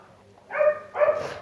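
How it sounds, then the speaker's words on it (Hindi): Two short, close dog barks from a Minecraft story, about half a second apart, loud and alone with no talking. "उसे कुछ कुत्तों की भौंकने की आवाज़ आती है।"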